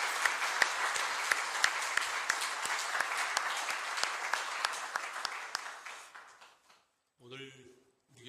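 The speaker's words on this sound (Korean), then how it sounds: "우리 다시 한번 선교사님들을 위해서 박수 한번 해드릴까요?" A church congregation at a missions conference claps steadily for the missionaries, a dense sustained applause that fades out after about six seconds before a voice begins speaking.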